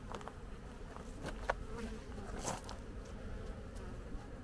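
Honeybees buzzing at an apiary colony, a continuous close hum with individual bees droning past now and then, moderately quiet with no talk.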